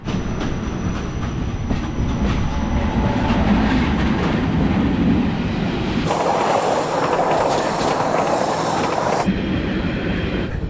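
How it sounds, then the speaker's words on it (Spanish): A Swiss train rumbles steadily along the rails, a continuous loud clatter with a brighter, harsher rush partway through, like passing a structure or tunnel. "Vamos a conocer los trenes suizos ahora."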